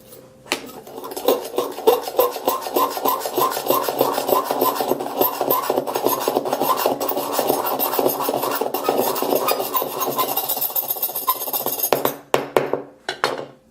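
A hard tool scrapes and grinds in steady circular strokes across the glossy back of a Jet Black iPhone 7, a loud, close, continuous rasping that runs for several seconds, then breaks into a few short scrapes.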